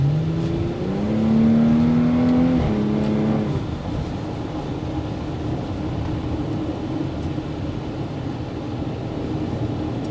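A 2022 Porsche Cayenne accelerates up onto the interstate, its engine note climbing in pitch, dropping at a gear change and then settling into a steady, moderately loud cruising road roar.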